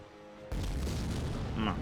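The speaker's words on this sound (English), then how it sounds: "Explosion!" An engineer's bomb detonates in a video game: a sudden loud boom breaks in after a quiet moment and gives way to a sustained, rumbling blast wash with scattered crackles.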